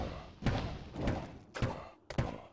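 A zombie exploding in the video game Diablo 2 gives a series of four heavy, muffled thuds at a steady pace, each a short blunt burst over a low background.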